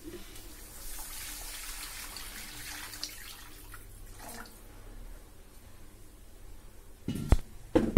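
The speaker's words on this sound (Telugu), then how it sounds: "ఇప్పుడు వాటర్ పోసుకుందాం" Water poured into egg biryani masala of chilli powder and garam masala in a cooking pot, a steady soft trickling splash that runs for several seconds, then a few louder knocks near the end.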